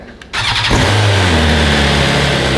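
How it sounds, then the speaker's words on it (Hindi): A motorcycle engine cranks and catches, then settles into a loud, steady idle close by. "तो गाइज अब करते हैं इसको स्टार्ट"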